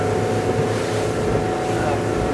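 A 2024 Sea Ray SPX 190 motorboat cruises over choppy waves, its engine a steady close drone mixed with wind and water rush throughout.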